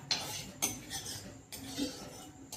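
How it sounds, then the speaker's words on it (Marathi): A metal spoon scrapes and clinks against a wok while oil is spread around its surface, with several sharp taps and scraping strokes up close and no talking. "हे तेल आपण ना सगळीकडे जरा लावून घ्यायचं व्यवस्थित कढईला"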